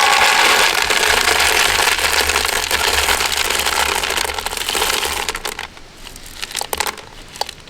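LECA clay pebbles poured out of a pot during repotting, a loud dense clattering rush that runs continuously for several seconds, then thins into scattered rattles and a few last clicks.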